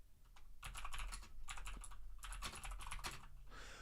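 Someone typing a Twitter post on a computer keyboard, close and crisp, in quick bursts of clicking keystrokes separated by brief pauses, with no talking.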